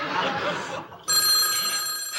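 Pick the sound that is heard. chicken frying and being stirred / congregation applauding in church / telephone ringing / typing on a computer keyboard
telephone ringing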